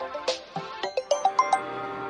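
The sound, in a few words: mobile phone ringing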